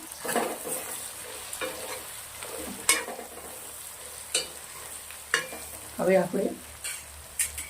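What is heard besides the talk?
stirring spices in hot oil for kundru pulao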